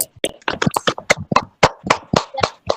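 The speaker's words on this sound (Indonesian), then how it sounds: "Boleh kita tepuk tangan untuk kelompok 1" A classroom group claps for the first student team, with sharp, separate hand claps close by in an uneven rhythm lasting a few seconds.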